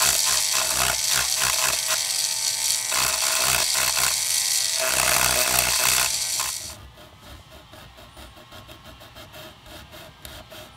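A rotary tool whines loudly and steadily as it carves a line into a plastic squirt gun, then drops to a quieter, rougher buzz after about six seconds.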